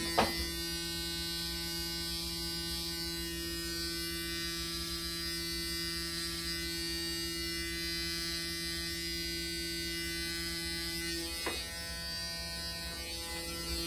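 A Braun Series 9 9477cc electric shaver trims a beard, a steady close mechanical buzz with a strong hum running throughout and a small bump where the head presses on.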